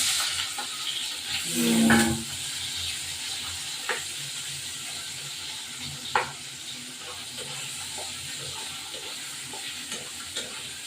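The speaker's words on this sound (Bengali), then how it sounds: "এবার এই পনিরটা ভাজলাম তেলে দিয়ে তেলে দিয়ে ভাজলাম" Paneer fries in oil with a faint, continuous sizzle and hiss, while a spatula stirs and taps the pan now and then.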